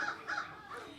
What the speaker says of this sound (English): You can hear him cawing right now.